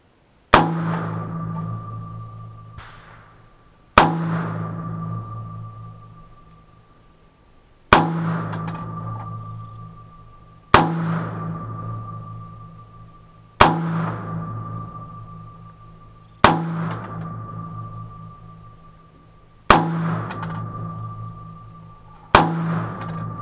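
About nine .22 rifle shots hit steel targets at an unhurried, fairly even pace, each a sharp crack followed by a ringing metallic ping that fades before the next, with no talking.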